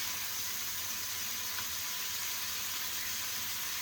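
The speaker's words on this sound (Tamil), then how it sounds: "எறாவுமே ரெடி ஆகிட்டுருக்கு. பார்த்தீங்கன்னா தெரியும் வெந்துட்டுருக்கு தோசைக்கல்லில்." Prawns and fish fry on a dosa griddle, giving off a steady, even sizzle with a faint hiss. The sound stays constant and moderately quiet throughout, with no talking.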